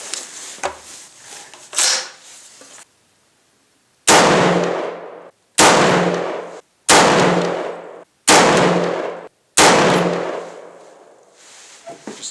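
Five loud, sharp shots from a Century Arms C15 A1 Sporter rifle fired at targets, evenly spaced about a second and a half apart and ringing out after each crack, with fainter knocks and handling sounds before them.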